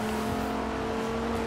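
A retro muscle car engine in the racing game Forza Horizon 2 drones loud and close, a sustained throaty hum with little change in pitch, and no one talks.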